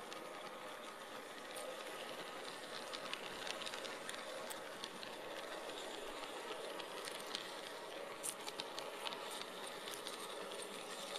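A model train rolls steadily along the track with faint clicking and rattling from the wheels, a continuous quiet running sound with no talking.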